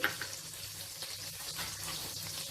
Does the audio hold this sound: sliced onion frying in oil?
yes